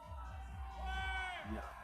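Crowd at a semi-final climbing competition whooping and cheering encouragement, a rising shout of voices across the short stretch, with commentary-like speech underneath.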